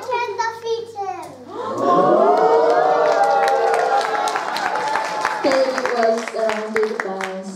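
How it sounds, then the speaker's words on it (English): A crowd of children and adults cheers loudly and continuously, with scattered clapping and shouting through most of the stretch, following brief speech at the start. "Such a great crowd of witnesses cheering on you."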